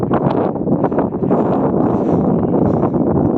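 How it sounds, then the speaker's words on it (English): Strong wind buffeting a microphone on top of a big hill near a radar station, a loud continuous roar with gusty rumbling and no pauses. "Oh, it's super windy."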